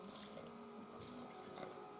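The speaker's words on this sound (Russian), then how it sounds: "Так, наливаю водичку." Water pours steadily from a container into bread dough ingredients in a bowl, a faint, close, continuous trickling splash with no talk.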